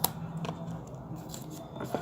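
Scissors snipping a sticky note into a small strip, with several short, close cutting sounds at uneven intervals in a quiet room.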